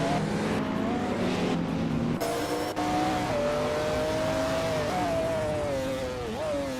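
Racing cars, including a classic 1999 Chevrolet Corvette, launching off the starting line in a racing video game: engines rev and climb through gears in rising whines, close and steady, with a brief shift dip midway.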